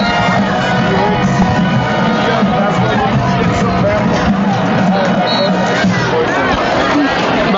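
Crowd and student sections at a high school football game between Timpview and Skyridge, a steady dense babble of many voices with scattered shouts, loud and continuous throughout.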